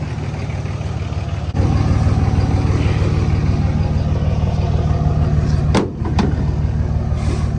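A pickup truck drives along steadily, a loud droning engine hum that rises after a sharp knock early on and briefly dips near the end, heard from inside the cab.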